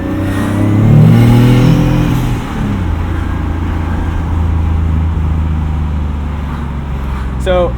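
Turbocharged 1995 BMW 325i accelerating, its engine rising in pitch and swelling loudly early on, then settling into a steady drone, heard close from inside the cabin with a voice talking over it.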